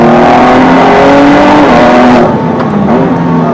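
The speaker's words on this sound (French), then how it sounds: "Allez, on accélère." A 2017 Ford GT engine roars loudly and steadily as it accelerates, the pitch climbing before a brief dip as the gears shift.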